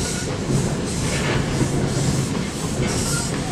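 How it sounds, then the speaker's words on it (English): Continuous rumble and clatter of a steam train in motion, heard from on board, with rhythmic clanking and a steady hiss. "That smoke, if you can see it, is because we're on a steam train."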